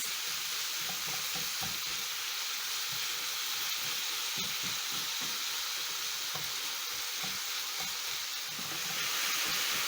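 Minced meat with spices fries in a pan for a homemade pizza topping, a steady close sizzle running throughout with scraping stir strokes breaking through now and then.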